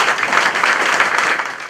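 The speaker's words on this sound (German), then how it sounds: "Bitte um Applaus" Audience applause at a wine christening festival in Mautern, a dense steady burst of many hands clapping for the winemaker, loud and continuous for under two seconds before tapering off.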